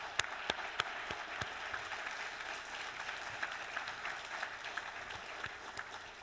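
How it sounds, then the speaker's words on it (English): An audience claps steadily throughout at a library leadership awards ceremony, a dense, even patter of applause with a few sharper individual claps standing out. "let's give them another round of applause."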